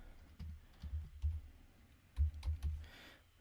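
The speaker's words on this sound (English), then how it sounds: "I usually just type in the first 4 characters" Short burst of typing on a computer keyboard, a few soft key clicks in an uneven rhythm, close and quiet with no talk.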